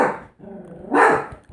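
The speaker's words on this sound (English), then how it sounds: "You'll have to forgive the dogs in the background." Dogs bark indoors, two sharp barks with a short growly gap between them, fairly close and loud.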